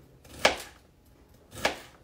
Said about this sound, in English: I'm awful at chopping